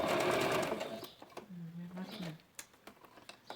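A sewing machine stitches around a fabric lining of a glasses case, a brief buzzing run under someone speaking, followed by quieter clicks and handling.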